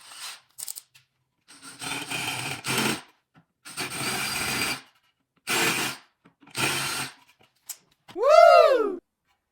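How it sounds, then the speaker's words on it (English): Power drill boring countersink holes into a wooden tablet shelf for screw heads, several separate bursts of close, buzzy drilling with short pauses between, ending in a rising and falling whir. "Now we'll drill the countersink holes for the screw heads to sink in."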